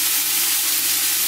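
Leeks sauté in hot olive oil in a large soup pot, giving a steady, close, even sizzle with a soft continuous hiss and no voices.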